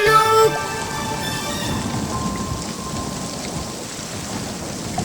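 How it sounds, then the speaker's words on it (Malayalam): Cartoon thunderstorm with rain driven by wind: a brief musical sting, then steady, dense rushing rain and gusting noise fill the scene. "പെട്ടെന്നു മാനം കറുത്തു വന്നു മഴയുടെ കൂട്ടത്തിൽ കാറ്റും വന്നു"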